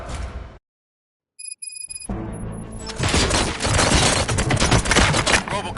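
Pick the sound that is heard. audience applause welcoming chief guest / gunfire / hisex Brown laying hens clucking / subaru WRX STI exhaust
gunfire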